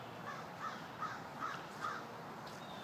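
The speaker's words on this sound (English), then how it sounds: "Our crow is back, as you can hear" A crow caws five times at an even pace in a vegetable garden, moderately near and clear over soft outdoor background, with no talk.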